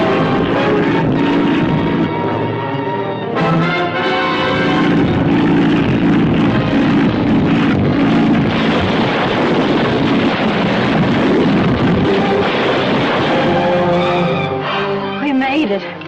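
A propeller airplane attempts a forced landing in a 1946 jungle adventure serial, a loud continuous engine roar with rumbling and crashing surges, dense and unbroken throughout.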